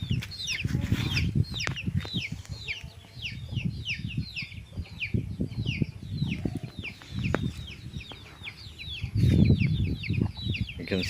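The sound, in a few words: small chickens clucking around a chicken house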